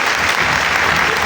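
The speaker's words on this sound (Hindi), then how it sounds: "किस को आज क्लास में मज़ा आया वो क्लैपिंग से बता दे ज़रा।" Students in a class clap together, a dense, sustained burst of applause that fills the room evenly from start to finish with no voices standing out.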